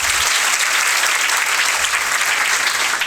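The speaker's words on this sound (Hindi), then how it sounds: "इसलिए जोरदार तालियां" Loud, sustained applause from an audience honouring a young local villager selected for the ITBP, dense steady clapping filling the space for the whole stretch with no voices over it.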